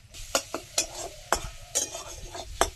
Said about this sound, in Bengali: টমেটো কাঁচা লঙ্কার কুচি দিয়ে দিলাম একটু নাড়াচাড়া করে ভাজবো